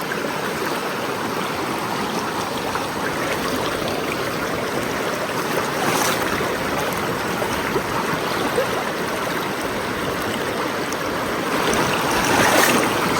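Steady rushing and trickling of a stream being waded across on a New Zealand trail in the Richmond Ranges, continuous close water flow with occasional splashes from footsteps.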